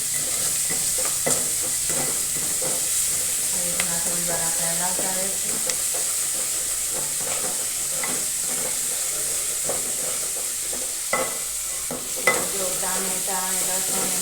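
Chopped onion, tomato, garlic and chili sauté in hot oil with a steady close sizzle and hiss, broken by scraping stirs of a spoon in the pan throughout.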